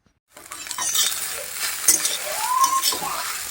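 Pasta with egg, onion and tomato sizzles steadily in a pan as a utensil stirs and scrapes through it, with a few light metallic clinks, close and fairly loud.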